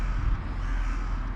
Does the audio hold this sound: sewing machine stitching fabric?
no